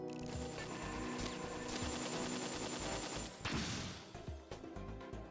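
Rapid video game gunfire from Metal Gear Acid, dense bursts of shots with mechanical clatter and a crash near the middle, fairly faint and continuous.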